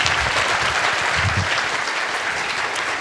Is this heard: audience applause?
yes